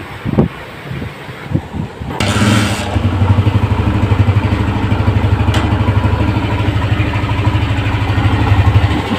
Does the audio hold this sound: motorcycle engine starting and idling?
yes